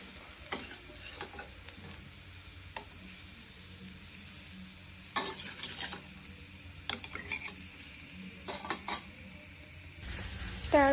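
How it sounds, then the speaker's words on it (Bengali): Fish frying in a pan in a home kitchen: a quiet, steady sizzle throughout, broken by sharp utensil clicks and scrapes against the pan, with a louder spatter burst near the end. "মাছ বোনা করবো, এর জন্য মাছ ভেজে নিচ্ছি।"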